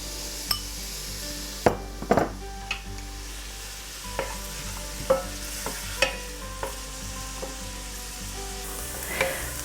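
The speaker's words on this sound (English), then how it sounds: "We're going to saute the chopped onion for a few minutes until it starts to brown." Chopped onion sautés in olive oil in a pot, a steady close sizzle with intermittent spoon scrapes and knocks against the pot.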